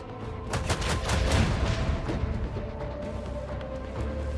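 A ship's side gun fires in Rogue Trader, a burst of rapid booming shots with crackling impacts, loud at first and then trailing into a lower rumbling tail.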